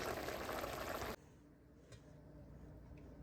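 Loud bubbling and hissing of a pot of tomato and cabbage curry boiling, abruptly quieting after about a second into a softer simmer with faint pops.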